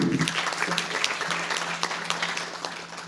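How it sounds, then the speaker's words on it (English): Sustained applause from an audience at a civic gathering, a steady patter of clapping with a few sharper individual claps, held at moderate level for several seconds without talk. "Please give him another round of applause."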